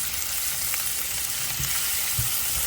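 Frozen store-bought steak for a Philly cheesesteak frying in a pan over low heat, giving a steady, close sizzle with occasional louder pops and stirring scrapes throughout.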